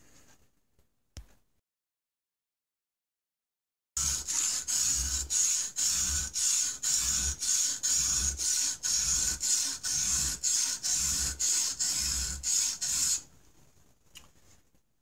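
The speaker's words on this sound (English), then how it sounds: "Start sawing away at the edge there, work my way up in grit" A knife's edge is worked across a 120-grit sharpening stone in steady back-and-forth strokes, a loud, close, rhythmic rasping scrape repeating for about nine seconds, with quiet before and after.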